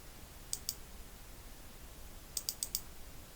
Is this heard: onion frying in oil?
no